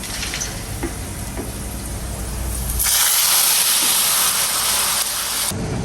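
Boiled dal is poured into a fried onion tempering in hot ghee. A low background hum is suddenly replaced by a loud, bright sizzling hiss that holds steady for several seconds and then cuts off abruptly.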